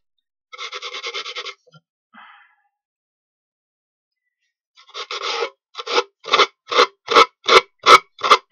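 Plywood corners being rounded by hand for a camping chuck box, with a short rasping stroke, a pause, then a run of about seven evenly spaced, increasingly sharp filing strokes.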